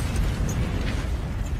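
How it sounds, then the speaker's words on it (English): A cartoon controlled explosion of a suspicious package at a bank rumbles as a loud, sustained low boom with crackling debris throughout. "we're gonna do a controlled explosion!"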